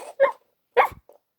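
A dog gives two short, sharp barks close by, separated by a brief pause, followed by a faint little yip.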